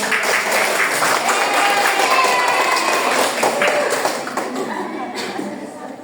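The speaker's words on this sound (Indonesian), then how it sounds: "tepuk tangan dulu untuk Yen yang sudah" Steady applause from a classroom audience during a micro-teaching session, dense clapping that stays loud for several seconds and eases slightly near the end, with faint voices mixed in.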